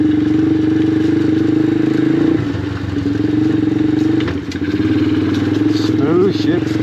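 A rare Venom X19 super pocket bike runs under way with a loud, steady buzzing engine drone that dips briefly twice as gears shift, then picks back up.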